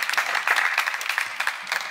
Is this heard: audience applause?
yes